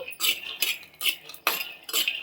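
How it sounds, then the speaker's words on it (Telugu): Peanuts stirred and dry-roasted in a pan make five or six rhythmic scraping, rattling sweeps, each a bright clattering burst, close and clear with no voices. "ఈ పల్లీలన్నింటినీ దోరగా వేయించుకోవాలి."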